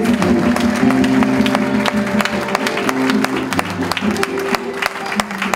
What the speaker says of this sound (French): Acclamons très fort pour la gloire du Seigneur